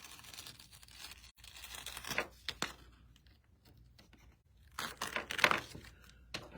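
Vinyl lettering being peeled away from its backing sheet, heard as close, quiet bursts of crinkly tearing and crackling in two clusters separated by near-silence.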